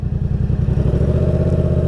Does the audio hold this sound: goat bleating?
no